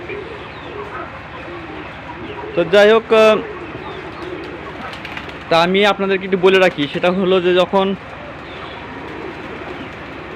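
Pigeons drinking water set out in the open give several bursts of soft, layered cooing, close by and clear, with someone talking throughout.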